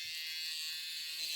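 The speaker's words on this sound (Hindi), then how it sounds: "65 रुपए का ट्रिमर।" A cheap rechargeable electric hair trimmer runs with a steady, high-pitched buzzing whine, continuous and even throughout, faint in level with no voices over it.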